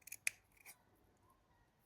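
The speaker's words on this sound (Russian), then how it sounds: "И теперь в таком же положении ножницами делаю вот такие вот" Scissors snip satin ribbon in a few quick, sharp, close cuts, quiet and separate, with no talking.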